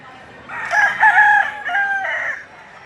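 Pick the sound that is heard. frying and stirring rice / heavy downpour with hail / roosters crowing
roosters crowing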